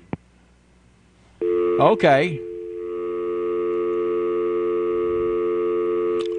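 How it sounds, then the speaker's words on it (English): A steady telephone dial tone hums on after a short burst of warbling electronic tones, with a brief spoken word near the start, on a live radio broadcast. "Let me get rid of this dial tone here."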